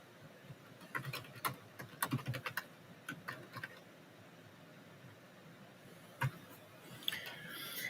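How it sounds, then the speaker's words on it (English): Typing on a computer keyboard: quick irregular bursts of key clicks, fairly close, clustered in short runs with pauses between. "He's typing."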